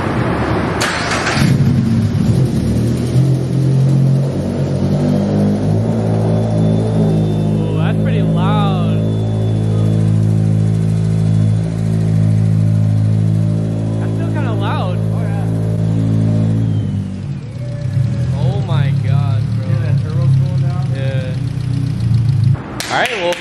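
A turbocharged Subaru BRZ engine cranks and catches, then settles into a steady rumbling idle with a few blips, running loud and close while people talk over it.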